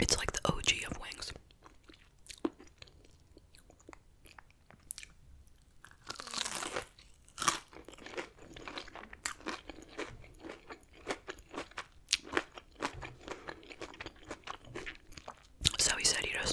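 Crunchy chewing and biting of lemon pepper chicken wings from a Wingstop meal, close and intimate, in repeated irregular bites with soft whispering between them.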